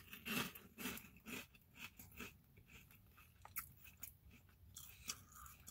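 Crunchy Slim Jim pork rinds, plain chicharrones, are bitten and chewed up close in a run of crisp, irregular crackling crunches, quiet but distinct, with no talk over them.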